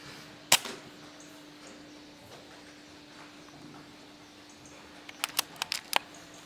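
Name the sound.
air rifle shot at a rat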